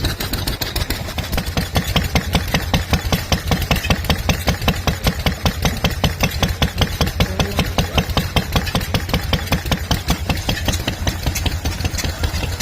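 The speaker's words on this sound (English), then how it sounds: "Robinson gas engine." A Robinson gas engine built around 1900 chugs steadily at a vintage rally, its rapid, even firing beats loud and close for the whole stretch with no talk over them.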